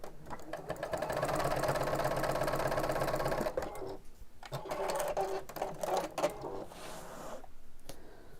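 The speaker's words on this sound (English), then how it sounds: "we'll sew between lines 2 and line 3." A sewing machine stitches fabric in a fairly quiet, continuous whir for several seconds, then runs in shorter bursts broken by brief pauses and handling noises.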